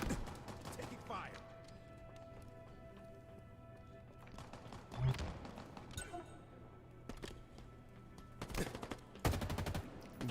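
Gunfire in the Halo video game crackles in scattered bursts, with a loud cluster near the middle and a dense rattling burst toward the end, over a steady game backdrop and talking.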